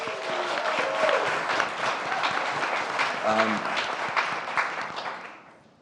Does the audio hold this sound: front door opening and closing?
no